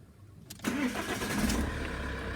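A car in a garage with a tailgate wiring fault has its ignition cycled: a quiet click, then the engine cranks and catches about halfway through, settling into a steady mid-pitched idle.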